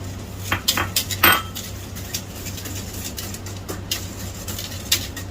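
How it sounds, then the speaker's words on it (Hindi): A cup of sugar going into two litres of milk in a pot for a custard, with a few metal clinks and utensil knocks near the start over a steady low hum, then quieter handling. "तो इसके अंदर मैं डालूंगा अभी 1 कप शुगर।"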